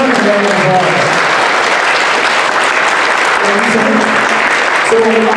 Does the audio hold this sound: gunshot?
no